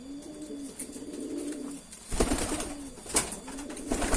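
Red tritis pigeon cooing close by, repeated low rolling coos in a steady series with faint background rustle.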